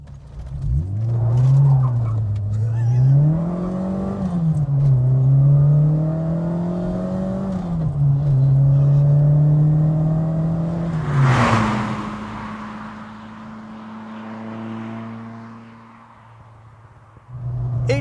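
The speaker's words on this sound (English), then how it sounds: "we're going to take it through the gears once more" A Fiat Strada 130 TC Abarth engine accelerates hard through several gears, its loud rasping note climbing and dropping at each shift, then easing off to a lower drone near the end.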